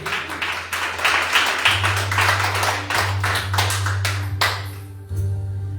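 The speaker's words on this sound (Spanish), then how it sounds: "dale un fuerte aplauso a Cristo" A church congregation claps together in a steady, loud, continuous round of applause, with a low sustained musical tone running underneath.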